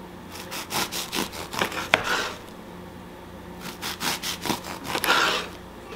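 A knife saws back and forth through a loaf of keto bread in quick rhythmic strokes, two bursts of slicing separated by a brief pause, close and clear with a small knock against the board.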